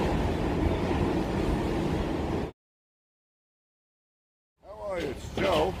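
An E or F subway train at Parsons Boulevard station rumbles loudly and steadily for about two and a half seconds, then the sound drops to silence before a voice speaks over faint background noise.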